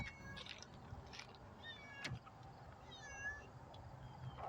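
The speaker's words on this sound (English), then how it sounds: "I hear a cat." A cat meows repeatedly outdoors, hidden behind a stack of wood, its rising and falling cries moderately near over a steady background hiss, with no talking.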